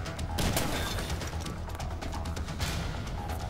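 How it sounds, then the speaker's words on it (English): Loud bursts of gunfire from the video game Dead Rising, dense overlapping shots and rattling fire that fill the short stretch without a break, with no talk. "Someone's shooting from the floor. Oh, really? I couldn't tell by the extremely loud gunshots."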